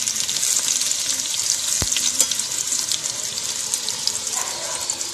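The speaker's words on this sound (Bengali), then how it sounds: "আবারও আমি ঠিক ওইভাবেই ভেজে নেব।" Eggplant slices frying in hot oil give a steady, close sizzle throughout, with a brief sharp knock partway through and light clatter near the end; no one speaks.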